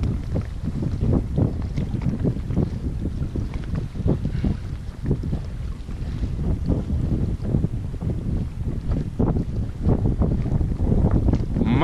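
A boat starts out in strong wind, with continuous wind buffeting and rumbling water noise throughout, dense and fairly loud with irregular gusty pulses and no clear voices.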